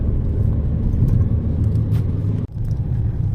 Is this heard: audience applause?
no